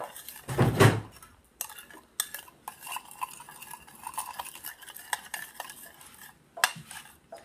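A utensil stirs and clinks against a bowl of spicy Thai glass noodle salad, with one sharp clatter at the start followed by steady, quiet scraping and tapping.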